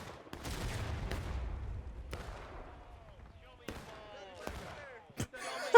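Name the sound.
gunfire in the video game Ghosts of Antietam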